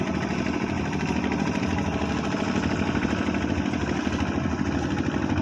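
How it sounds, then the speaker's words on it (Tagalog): A Kubota RK70 tractor engine running steadily out in a field, a loud, constant mid-pitched diesel drone with an even throbbing rhythm and no pauses. "Ito yung power by Kubota. RK70 po siguro yun, no? Yung makina niya."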